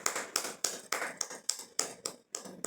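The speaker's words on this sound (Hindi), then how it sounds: "और अपने लिए ताली बजाएं।" A small group clapping for themselves at the close of a meditation session, nine or ten even, moderately paced claps at close range with no talking.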